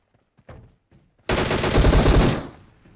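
In a battle royale video game, a few sparse shots pop first, then a loud sustained burst of rapid automatic gunfire rattles for about a second before trailing off.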